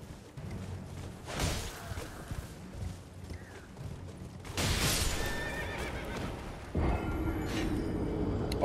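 A horse in the video game Elden Ring neighs and whinnies in several loud bursts, with clip-clop hoofbeats and thuds between them, close and without talk.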